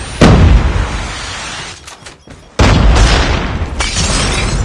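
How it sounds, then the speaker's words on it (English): Predator missile strike exploding in Call of Duty Mobile multiplayer, a sharp loud boom followed by rumbling debris, a second heavy blast hitting midway and rolling on to the end. "Hostile predator missile inbound."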